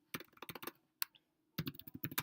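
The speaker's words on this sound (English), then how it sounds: "start typing in the address" Quick bursts of keystrokes on a computer keyboard, a rapid run of clicks, a short pause with a single tap, then another fast flurry of typing, close and clear.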